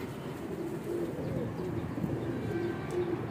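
Pigeons, paired Weshi, Kansani and Sialkoti birds, coo repeatedly in a low, steady rhythm, the murmuring calls recurring every half second or so over a faint background hiss.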